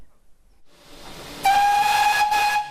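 A Great Central Railway steam locomotive on the Santa Express sounds a loud, steady whistle over a rising burst of steam hiss, building from near silence and holding for over a second before easing, with no speech.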